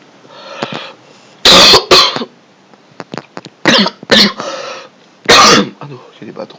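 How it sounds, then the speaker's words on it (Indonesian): Several loud, close coughs and throat clearing from a man during an accounting lesson, in irregular bursts between softer breathy sounds and murmurs. "Aduh, jadi batuk nih."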